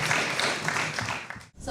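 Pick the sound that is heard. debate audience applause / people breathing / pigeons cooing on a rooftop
debate audience applause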